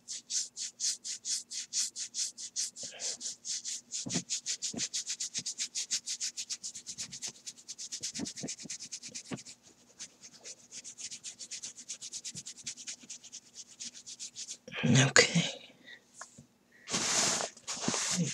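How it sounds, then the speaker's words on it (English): Hands rubbing the temples during a close head massage make soft, rhythmic brushing strokes in quick repeated passes, slowing later, with a few louder rustles near the end. "I'm gonna have my hand around your whole head with my thumb on your left temple, my middle finger on your right temple, and I'm just gonna gonna rub that"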